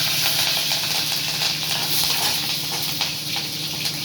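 Fennel seeds and a couple of green chillies sizzle and crackle steadily in hot oil, a continuous bright hiss close by with no talking.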